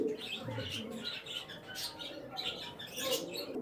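Giribaz high-flying pigeons in a loft, soft coos and chirps mingled with scratchy rustling and bursts of noise, close and moderately quiet.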